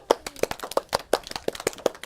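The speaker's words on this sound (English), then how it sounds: "Everybody give yourself a round of applause" Children in a classroom clap for themselves after a math lesson on triangles, a sparse run of distinct, sharp hand claps at a quick, slightly uneven rhythm, fairly close and quiet, with no talk.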